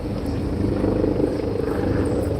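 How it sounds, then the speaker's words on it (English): A helicopter passes overhead above a Tokyo street, its steady low rumble filling the short stretch at an even, moderate level with no talk over it. "Also, helicopter above."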